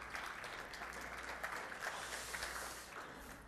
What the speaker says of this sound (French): vous pouvez applaudir, là